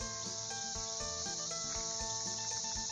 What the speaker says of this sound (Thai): พี่น้องจักจั่นกำลังออกนะครับเนาะเสียงกำลังดังอยู่นี่นะครับ